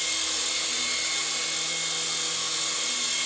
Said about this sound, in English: It's a very gentle flying helicopter.